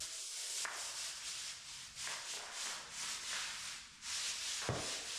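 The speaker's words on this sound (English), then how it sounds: "we put degreaser on one section, and then we started with the brush and we started scrubbing it really well" A stiff brush scrubs degreaser into a concrete garage floor, producing repeated rhythmic rasping strokes, close and moderately loud, with short pauses between strokes.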